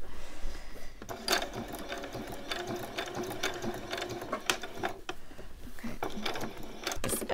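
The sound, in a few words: sewing machine stitching a t-shirt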